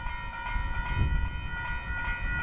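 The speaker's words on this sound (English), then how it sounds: "there's now officially a train that is blocking our road" Low, steady rumble of a stopped freight train idling across a road, with a constant mechanical drone and faint rattles, no rhythmic clatter of moving wheels.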